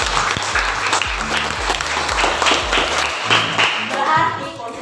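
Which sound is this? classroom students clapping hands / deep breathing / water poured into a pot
classroom students clapping hands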